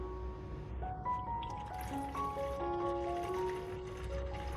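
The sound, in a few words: nutrient water poured into a clean bottle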